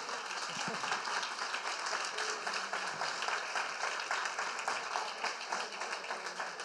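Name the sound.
audience applause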